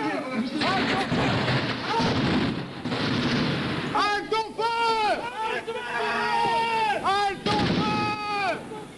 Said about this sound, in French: la fusillade de la rue d'Isly enregistrée par René Duval pour Europe 1